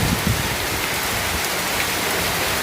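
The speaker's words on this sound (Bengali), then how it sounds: "দেখো আরও জোরে জোরে বৃষ্টি চলে আসছে" Heavy rain pours down steadily in a loud, dense hiss of falling drops, with no voices over it.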